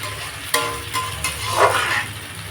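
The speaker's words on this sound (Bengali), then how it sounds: "এটা পুরো ভাজা ভাজা করবো" Something fries in a generous amount of oil with a low, steady sizzle, while a few stirring clinks and scrapes stand out. No voices.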